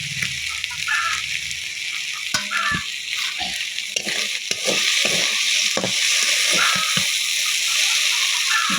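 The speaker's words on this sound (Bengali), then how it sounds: "দেখতে পাচ্ছেন আমি একটা পাত্রে তুলে নিচ্ছি।" A ladle scrapes and clinks against a pot as a cooked vegetable curry is spooned into a bowl, giving scattered close taps and soft scrapes over a steady background hiss, with no talking.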